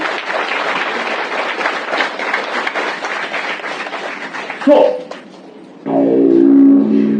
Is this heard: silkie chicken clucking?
no